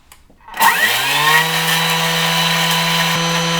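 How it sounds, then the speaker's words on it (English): A Thermomix kitchen machine grinds sugar into icing sugar at speed 10, a loud steady high-speed motor whine with a harsh grinding rasp that spins up quickly and holds constant. "so it's going to grind the sugar into icing sugar."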